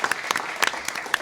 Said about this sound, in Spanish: Padre, un fuerte aplauso, reciba nuestro cariñoso aplauso.